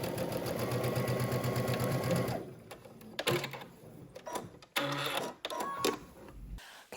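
A sewing machine runs a steady fast stitch through a pleat for about two seconds, close and clear, followed by scattered handling clicks and fabric rustles.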